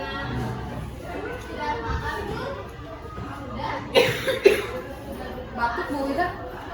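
A person coughs a few times in a classroom, short bursts in the middle of the clip amid background children's chatter and talk.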